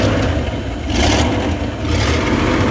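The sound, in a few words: Ford E150 van engine revving without engine cover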